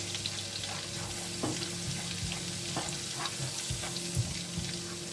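Garlic and red pepper flakes frying in a pan for a seafood stir fry, a steady close sizzle with faint scattered clicks and stirring, no talking.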